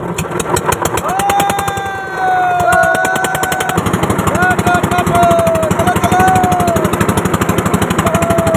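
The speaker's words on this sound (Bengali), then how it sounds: "চলো দাও মেশিন স্টার্ট দাও" A boat engine starts up on a river in the Sundarbans at night. It is a loud, steady, rapid chugging that grows denser after a few seconds, with people talking over it.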